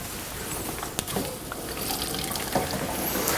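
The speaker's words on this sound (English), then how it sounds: "So I've turned on the hot tap," A hot water tap runs steadily into a sink as part of a heating circuit setup, a continuous close hiss and splash with a few small drips, no talking.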